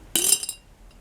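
A single bright clink of chunky Victorian glass mourning buttons knocking together as they are handled, close and crisp, fading within half a second.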